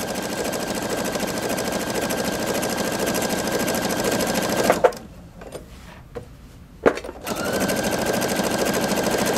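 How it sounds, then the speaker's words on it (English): A Pfaff Creative 3.0 sewing machine with an upper feed system stitches an applique pin stitch, a close, steady rapid whirring that stops briefly in the middle and then resumes at the same pace. "because of the Pfaff's upper feed system on this machine, it pulls the fabric through very evenly and very precise"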